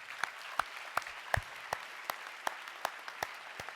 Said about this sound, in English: please give a round of applause to all the military families